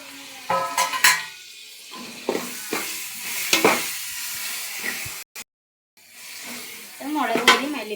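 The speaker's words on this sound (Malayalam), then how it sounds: "ഇത് പുതിന ഇല ഇടുകയാണ്. അതിൻ്റെ കൂടെ തന്നെ കുറച്ച് തക്കാളി ഇടുകയാണ്." Mint leaves and chopped tomato go into a frying biryani masala, with scraping stirs, utensil clatter and a steady sizzle from the pan while a voice talks over it.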